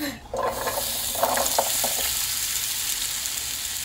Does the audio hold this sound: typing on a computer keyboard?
no